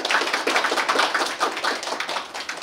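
A ceremony audience at a Korea University degree conferral event claps for each guest introduced, giving a dense patter of applause that swells and dips slightly, with no voices over it.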